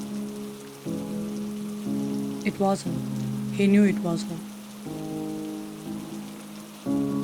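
A steady patter of falling rain plays as a background sound effect in a narrated audio story, soft and continuous beneath a narrator's voice, with music tones drifting in and out.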